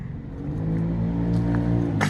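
A moped's small engine drones and revs nearby, a steady buzzing motor sound building slightly as it passes, with no talking.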